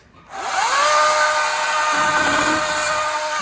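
A Wild Badger power chainsaw starts up in a backyard and settles into a steady, loud, high motor whine, with a brief lower rasp of cutting partway through.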